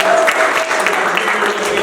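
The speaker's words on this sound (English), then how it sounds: "take a real quick round of applause" Quick round of clapping from the crowd at a groundbreaking day event honoring mentors, continuous and fairly loud for under two seconds, with a faint tone lingering beneath.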